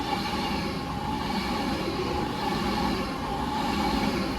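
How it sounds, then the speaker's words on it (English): An Avanti West Coast Class 390 train on a diverted Euston to Manchester Piccadilly service passes close by as a loud, steady roar of wheels and rushing air, unbroken for several seconds. "here's a pass on Avanti West Coast on divert from London Euston to Manchester Piccadilly"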